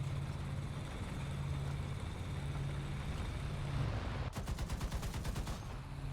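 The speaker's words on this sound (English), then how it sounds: "See if the B-18B can actually shoot him down." Rapid bursts of B-18B bomber gunfire in War Thunder, a steady engine drone for about four seconds giving way to a dense, evenly spaced rattle of shots near the end.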